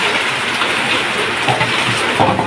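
Heavy rain pours down at a canal-side garden home, a loud, steady hiss of water drumming on surfaces close by, continuous throughout with no talking.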